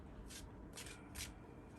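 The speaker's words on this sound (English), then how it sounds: "I'm not good at shuffling cards, actually" A deck of tarot cards being shuffled by hand, three soft papery riffling bursts in a steady rhythm, close and quiet over a low room hum.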